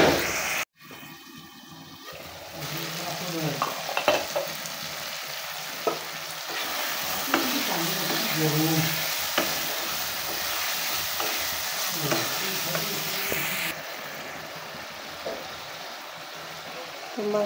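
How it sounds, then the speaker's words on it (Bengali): Beef sautéing and braising in a pan for a village-style Bengali beef curry, a steady sizzle broken by repeated spatula scrapes and stirs, fairly close and alone. "মাংসগুলো এখন আমি ঢাকনা দিয়ে ঢেকে কষিয়ে নেব।"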